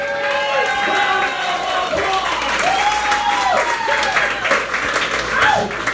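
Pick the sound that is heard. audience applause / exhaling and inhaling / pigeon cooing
audience applause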